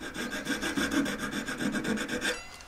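Close, steady file strokes on metal while shaping a single-stone ring, about a dozen even rasping back-and-forth passes in quick rhythm that stop at the end, with no talking.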